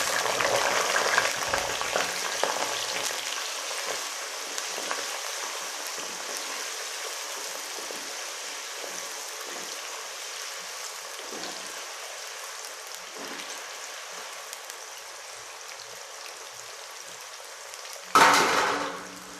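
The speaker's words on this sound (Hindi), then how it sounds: "अब हम आलू फ्राई करेंगे।" Potatoes fry in a pan for an aloo arbi dish, giving a steady, fairly quiet sizzle. A brief louder burst near the end suggests the pieces being stirred.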